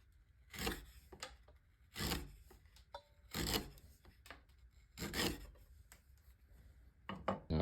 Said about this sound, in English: Block planes cutting great. Nice, unbroken, full width shavings.